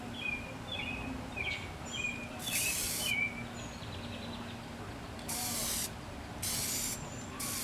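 Patio furniture is spray painted outdoors with an aerosol can, several short hissing bursts of spray separated by pauses, while birds chirp and call in the background.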